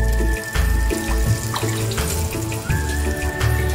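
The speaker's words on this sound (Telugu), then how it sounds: "ఈ రెండు కప్పుల వాటర్ ని ఇందులో పోసుకోండి" Two cups of water poured into a pot while cooking foxtail millet pongal, a running splash of water from a tap or vessel, close and fairly loud, with brief pauses between pours.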